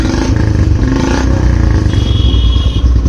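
A Royal Enfield Bullet 350 motorcycle engine throbs loud and close as the throttle is blipped, a deep pulsing exhaust thump that swells and eases over a few seconds.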